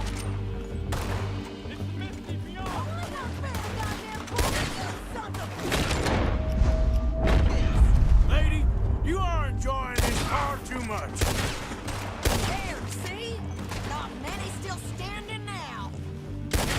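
Gunfire in the Red Dead Redemption 2 video game, a dense volley of repeated shots and sharp cracks over about sixteen seconds, loud and close, mixed with game voices and music.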